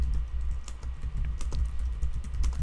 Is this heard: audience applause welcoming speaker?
no